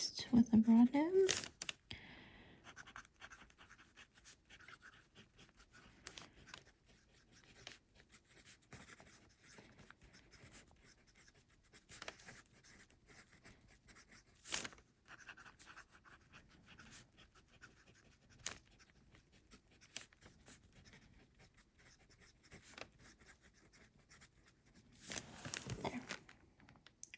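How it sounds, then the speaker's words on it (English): Pen and ink scratching across paper in slow, uneven strokes, faint and close, with soft rustles and a whispery voice now and then. "I'm writing very sloppy because it's hard to do."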